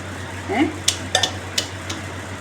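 Ground masala being mixed with salt in a bowl: a few sharp, close clinks and scrapes of a spoon against the bowl, spaced irregularly over a quiet background.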